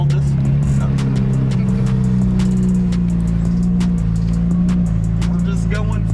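Street-tuned turbocharged car accelerating hard down a freeway, its engine drone loud and steady throughout with a low rumbling tone and faint wind and road noise over it.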